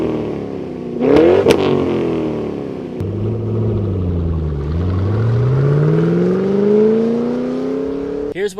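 A Ford Mustang fitted with Borla ATAK axle-back mufflers on the stock H-pipe revs up loud and close. The engine blips sharply twice, falls to a deep idle-like drone, then climbs in a long, steady rising rev.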